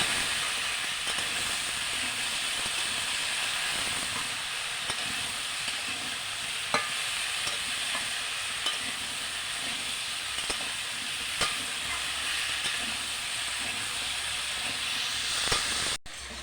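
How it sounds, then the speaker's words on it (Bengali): Pumpkin, taro and fish head curry fries in a pan while being stirred after salt goes in: a loud, continuous hissing sizzle with occasional sharp spatula scrapes, close up and without speech. "নুন পরিমাণ মতন দিয়ে দিচ্ছি, দিয়ে ভালো করে নাড়িয়ে নিচ্ছি।"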